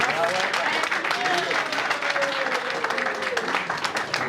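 An audience at a Ghana Musicians Union inauguration claps steadily, a sustained crackle of many hands heard at close range, with a voice speaking and a drawn-out vocal tone running over the applause.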